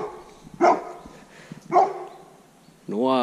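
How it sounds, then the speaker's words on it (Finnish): Neighbour's dog barking in a few separate bursts nearby, with a voice speaking between the barks and a whine-like yelp at the end. "Naapurin koira se vaan on."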